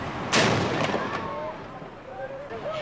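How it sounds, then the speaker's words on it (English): Hong Kong's ceremonial noonday gun firing a single loud boom that rolls away into a long fading rumble, with crowd murmur and faint voices around it. "the firing of the noonday gun is more a tourist attraction than anything else"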